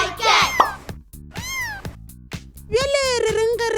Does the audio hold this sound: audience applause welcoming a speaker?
no